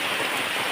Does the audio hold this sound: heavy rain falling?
yes